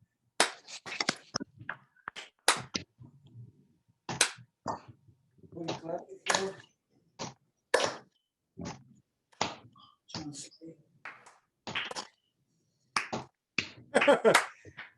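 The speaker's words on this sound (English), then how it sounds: "I'm going to ask that you follow me as we clap together. And I'm going to start slow." A small group at a virtual legislative breakfast claps together at a slow pace, sharp separate hand strikes spaced out and recorded close, mostly quiet between beats, slightly irregular as participants follow along.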